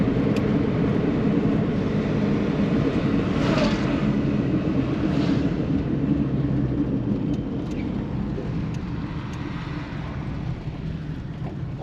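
A 1970 Ford Mustang idles while warming up, a steady low engine rumble heard close and constant throughout, with faint clicks and no speech.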